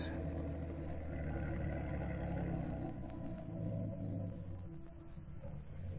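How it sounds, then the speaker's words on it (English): A low motorboat engine drones steadily in the distance in thick fog, approaching a boathouse, a rumbling hum that holds throughout with no voices. "There's a motorboat coming toward the boathouse now."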